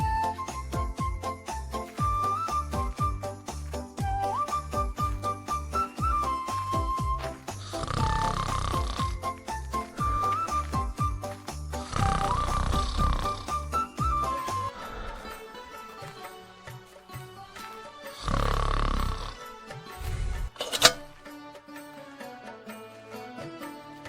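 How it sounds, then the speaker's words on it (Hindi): A cartoon man snores while asleep in a village courtyard, repeated rumbling snores running over light jingling background music, fairly loud and continuous. "नाक दबाकर खर्राटे लेकर सो रहा था।"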